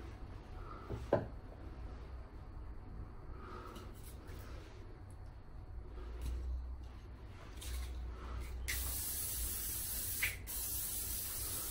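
An aerosol can of hairspray lets out a long, loud hiss near the end after some quiet rustling and handling, then a short second spurt follows.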